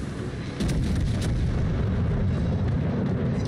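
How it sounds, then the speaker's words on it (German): A warship's secondary guns fire in the naval combat game World of Warships. The booming gunfire rolls almost without a break, loud and dense, with no voices over it. "Meine Nahkampfwaffen schießen."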